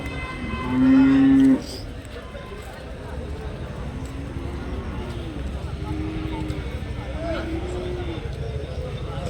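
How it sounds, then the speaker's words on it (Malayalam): A cow lets out one loud, close moo at a dairy cattle market, followed by fainter lowing from other cattle amid a busy murmur of voices. "കറവ് പശുക്കൾ കച്ചവടം നടക്കുന്ന സ്ഥലം"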